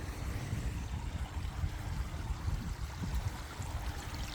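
Water jets spraying up from the ground beside a hotel children's pool in Fuerteventura, a steady even hiss and splash filling the whole stretch at moderate level, with no voices.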